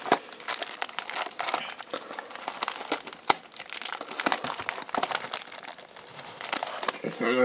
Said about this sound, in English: So I'll be opening my first booster box